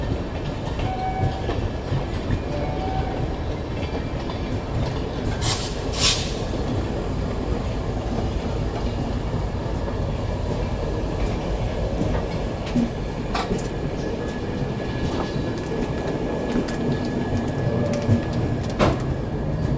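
A Mahakoshal Express train rolls along the rails near Agra Cantt station, giving a steady, close rumble of wagons with rhythmic clickety-clack wheel beats and occasional sharper metallic clicks. No one speaks.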